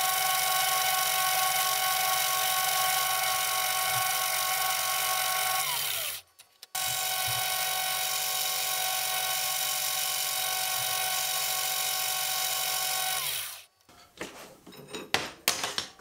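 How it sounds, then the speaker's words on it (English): Metal lathe turning a 4-degree taper onto the threads of an ACME tap: a steady motor whine with a faint cutting hiss, running for long stretches, briefly stopping, then spinning down to clanks and handling noises. "The last thing to do is to turn down a 4-degree taper onto the threads"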